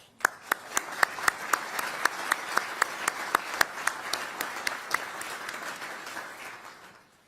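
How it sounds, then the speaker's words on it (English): Applause from the audience at a US defence secretary's speech on support for Ukraine: sharp, evenly spaced claps ring out over a softer crowd wash, then thin and fade. "Let's give them all a round of applause."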